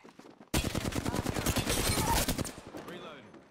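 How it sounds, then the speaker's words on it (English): Rapid automatic gunfire in the battle-royale shooter Apex Legends bursts in loudly after a short pause, a dense fast string of shots lasting about two seconds before fading into a softer tail. "Firing."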